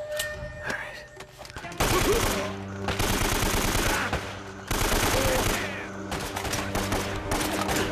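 AK rifle fire in Uncharted: Drake's Fortune, with loud sustained automatic bursts coming in two long stretches separated by a short lull, followed by a further burst.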